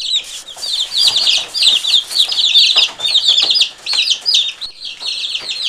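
Chicks in a homemade brooder, a steady busy chorus of high peeping and cheeping from many birds at close range, continuous throughout with no talking.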